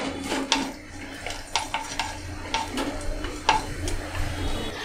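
Whole spices, cinnamon, a cracked cardamom pod and black peppercorns, frying lightly in a pan, with soft sizzling under repeated scraping and tapping of a spoon against the metal, no speech.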